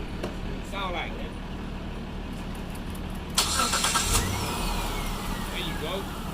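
A car engine with an AGM battery cranks under steady background noise and then catches and starts, ending in a louder, rough idle, close by, with people talking briefly at the start.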